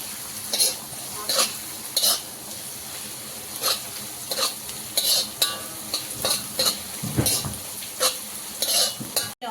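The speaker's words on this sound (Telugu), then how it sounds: "ఉల్లిపాయ కూడా లైట్గా ఫ్రై అవ్వాలి, ఎక్కువగా ఫ్రై అవ్వద్దు, లైట్గా." Onions and vegetables frying lightly on low flame for street-style veg noodles, a continuous sizzle broken by regular metallic stirring clanks and scrapes in the pan, close up.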